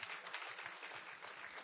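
A church congregation applauding together, a dense, even wash of clapping heard at a distance and lasting only a moment.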